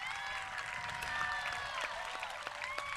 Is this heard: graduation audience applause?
yes